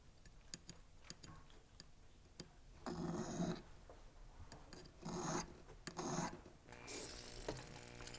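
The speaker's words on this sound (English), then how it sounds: "Then I like to use a half round file and clean up that groove, that little valley between the two rings." A half round file rasps in short bursts as it cleans the groove between two rings, the strokes close and gritty, broken by faint ticks and quiet pauses.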